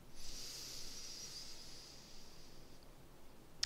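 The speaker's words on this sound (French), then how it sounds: "Et on expire. On vide l'air au complet." A person exhales deeply during a breathing exercise in a martial movement session, a long soft airy hiss that fades over a couple of seconds, close to the microphone and with no speech.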